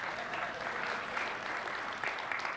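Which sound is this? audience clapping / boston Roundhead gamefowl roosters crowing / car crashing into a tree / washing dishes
audience clapping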